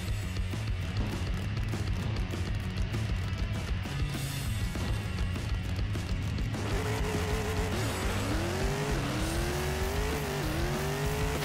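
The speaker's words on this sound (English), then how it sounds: "bouncing the rev limiter at the top of second gear" A Pro Modified drag car roars at full throttle down the strip, loud and continuous, then bounces off the rev limiter at the top of second gear with a stuttering, wavering engine note.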